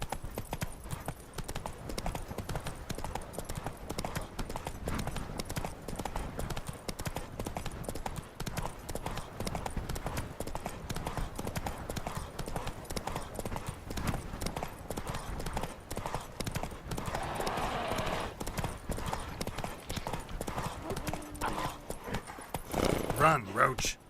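Rapid rhythmic hoofbeats of a horse galloping in The Witcher 3: Wild Hunt video game, a steady clip-clop running throughout at moderate level with a brief voice near the end.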